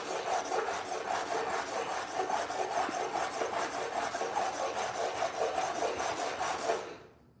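Continuous rasping scrape of 80 grit sandpaper worked back and forth over a truck thermostat housing, rhythmic strokes in a fast even pattern, close and steady, stopping cleanly near the end.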